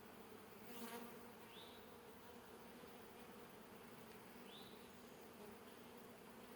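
Honeybees, including many drones, fill an open hive with a steady, even buzzing drone that holds close and constant, a couple of brief higher whines rising over it.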